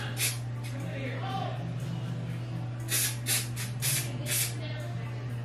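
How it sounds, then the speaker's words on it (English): Hairspray from a Dollar Tree can sprayed onto slicked hair comes as several short, close hissing bursts near the end, over a steady low hum. "It's the way it sprays for me, like, it sprays so bad."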